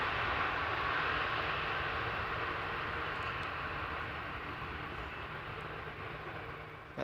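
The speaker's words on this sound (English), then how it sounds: "Some nice reverser action there." An airliner landing at Schiphol with thrust reversers deployed, a dense, loud roar that rumbles steadily and then gradually fades over several seconds.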